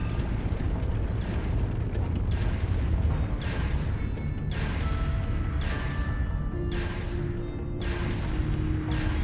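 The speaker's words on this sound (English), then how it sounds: "The big march of soldats and tanks." A dense, loud rumbling wall of sound from a military parade of marching soldiers and tanks in Trails of Cold Steel 4, with repeated booming thuds roughly every second and no talking.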